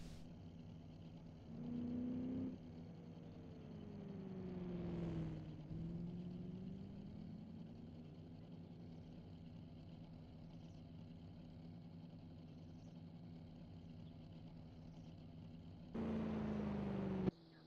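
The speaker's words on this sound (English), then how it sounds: "You can hear another car coming." A 1935 Targa Florio racing car engine rises into earshot and passes, with a brief louder burst near the start and another at the end over a steady mechanical drone.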